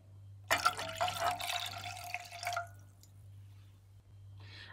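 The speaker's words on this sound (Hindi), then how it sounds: "इसमें मैं एक गिलास पानी ऐड करूंगी।" A glass of water is poured into tamarind pulp in a kitchen, a splashing liquid pour lasting about two seconds over a low steady hum, then a quieter trickle.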